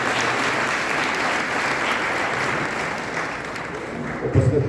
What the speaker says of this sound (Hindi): मैं चाहता हूं उनको एक बार ताली बजाकर हम इस सदन को